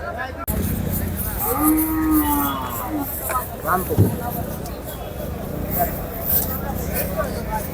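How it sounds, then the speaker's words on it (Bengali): Large Australian cattle being unloaded at the Ashulia cattle market, one long low moo rising and falling over crowd chatter, vehicle noise and people talking close by. "বড় বড় সাইজের দুইটি অস্ট্রেলিয়ান গরু এখন"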